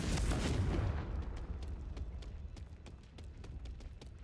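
A Confringo fire spell explodes in Hogwarts Legacy, opening with a loud booming blast that rumbles away into a crackling, burning tail made of rapid faint pops.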